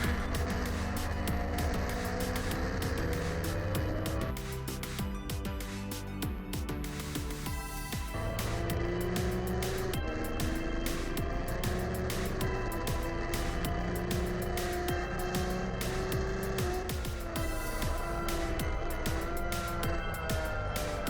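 A Suzuki GSX-R 1000 sportbike of around 172 horsepower roars continuously on a race track, heard loud and close from onboard, its engine pitch rising and dropping through gear changes into the last turn, with no talk.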